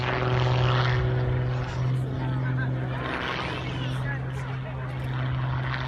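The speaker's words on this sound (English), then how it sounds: "powered by a 310 horsepower Lycoming 540 cubic inch engine" An aerobatic plane with a 310 horsepower Lycoming 540 cubic inch engine at the Tyabb airshow drones steadily as a propeller aircraft, loud and continuous, with an indistinct voice faintly underneath.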